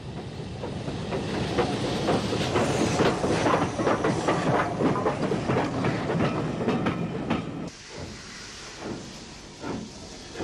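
Great Northern Railway steam locomotive Boyne races past near Dunmurry in 1964, a loud, sustained rush of exhaust and wheel clatter with rhythmic clicks, dropping suddenly near the end as it moves away.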